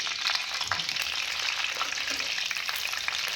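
Brinjal bajji fry in hot oil, giving a dense, continuous sizzle with small crackling pops, close by and steady throughout.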